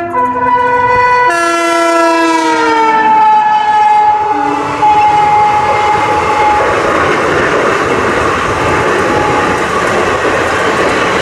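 Tirupati–Charlapalli Sankranti special train sounding a loud multi-tone horn, held for several seconds and shifting pitch as it passes, followed by the roaring rush and rattle of the coaches going by close up.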